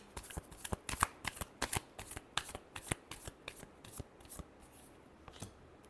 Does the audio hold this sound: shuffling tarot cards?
yes